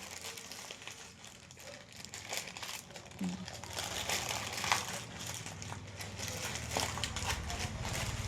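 Paper and plastic crinkle and tear as a Shein mail package is ripped open, a continuous rustling texture through most of the stretch with a few sharper rips.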